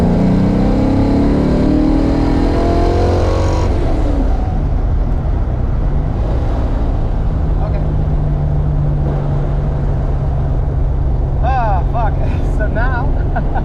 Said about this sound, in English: Third gear hit, no nitrous, just to see how it's doing